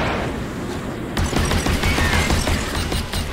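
Rapid gunfire from the video game Journey to the Savage Planet, a brief quieter stretch and then a dense, loud burst of repeated shots that lasts about two seconds.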